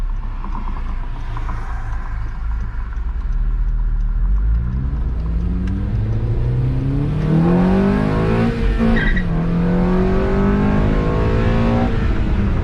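A 9th gen Honda Civic Si with a K-Tuned 3-inch intake accelerating hard, loud and close, its deep engine drone rising steadily in pitch through the gears, with a brief dip mid-pull.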